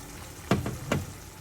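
Sauce poured into a hot pan of olive oil, giving two short sharp sizzling bursts that fade into a quiet steady crackle, close and alone.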